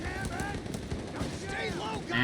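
Bursts of American gunfire sound in a Company of Heroes 3 match, rapid rattling shots mixed with battle noise, sitting under a commentator's steady talk throughout.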